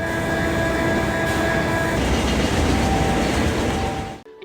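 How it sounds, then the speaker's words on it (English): Vibration from a working tunnel boring machine picked up by a geophone fixed to the tunnel side wall, a dense continuous rumbling roar with faint steady tones, loud throughout and ending abruptly. "TBM machine generates very strong noises and vibrations when it works"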